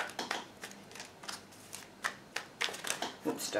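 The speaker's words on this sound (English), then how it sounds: "So first of all, we're going to shuffle." A deck of tarot cards is shuffled by hand up close in quick, uneven bursts of papery riffling and slapping, with short pauses between the bursts.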